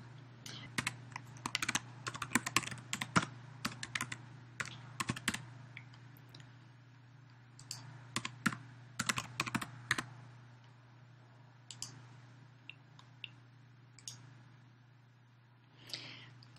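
Quiet bursts of keystrokes on a computer keyboard as an email address and password are typed into a sign-in screen, irregular clusters of clicks with pauses between them.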